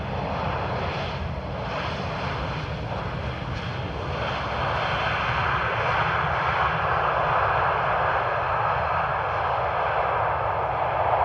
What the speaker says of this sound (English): there was the Edinburgh flight